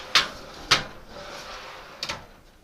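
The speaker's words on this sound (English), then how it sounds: "We'll put the drawer back in and see what happens." A lubricated drawer on new slides in a Mac toolbox bottom drawer slides back in, giving two sharp, close knocks a half-second apart, then a pair of lighter clicks about a second later, with no talking.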